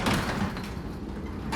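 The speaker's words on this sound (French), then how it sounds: "La porte s'ouvre" A door opening as an audiobook sound effect, a short muffled rumble with a faint latch-like click near the end, standing alone without any voices.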